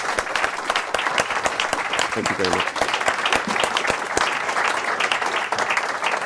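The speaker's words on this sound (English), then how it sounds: "give a round of applause to our panelists tonight" An audience gives a sustained round of applause to panelists after an evening policy discussion on EU farming, the clapping dense and steady throughout, with a brief voice speaking a thank-you over it.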